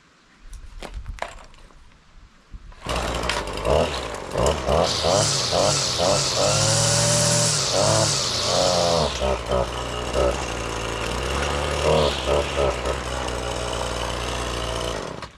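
A Husqvarna 525L string trimmer is pulled to start: a few sharp pull-cord rattles, then the two-stroke engine catches and runs loud and close, revving up into a high buzzing whine and settling back down.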